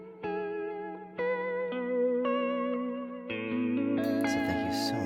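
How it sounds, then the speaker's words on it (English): A Vongon Ultrasheer stereo pitch vibrato and reverb pedal shapes sustained guitar chords that wobble in pitch and bloom into a wash of reverb, with successive strummed changes ringing out alone and thickening toward the end. "the Vongon Ultrasheer, stereo pitch vibrato, and reverb effect"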